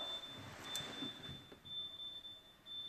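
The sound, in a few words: oven timer going off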